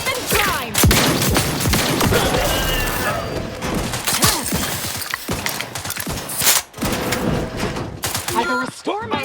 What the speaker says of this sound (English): Wrist weapon time!